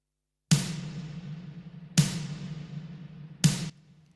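Snare drum sample layered on a Studio Drummer kit, three separate crisp snare hits about one and a half seconds apart, each with a bright attack and short ringing decay, heard alone.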